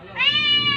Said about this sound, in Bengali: অন্য বিড়ালে এসছে বলে চিল্লাচ্ছে রে